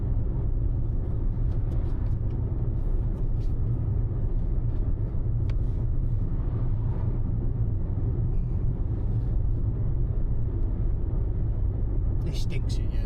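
A red Fiat Panda 4x4 without power steering droning along from inside the cabin, a low steady engine and road rumble with occasional small knocks and rattles throughout.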